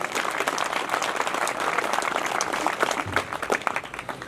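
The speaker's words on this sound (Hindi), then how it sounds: "एक बार चाहती हूँ तालियां बजाइए।" At a poetry gathering the audience breaks into loud, dense applause, many hands clapping close and continuous throughout.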